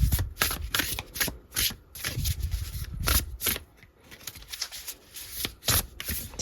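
Tarot cards are shuffled up close in a quiet room, a run of sharp riffling flicks and soft slaps in an uneven rhythm, with low handling rustle between them and no talking.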